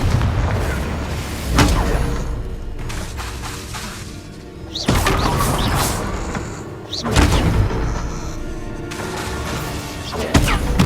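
Confringo fire spells in the Hogwarts Legacy duel: several loud booming blasts spaced a few seconds apart, each with a crackling tail, mixed with whooshing spell effects and combat clatter.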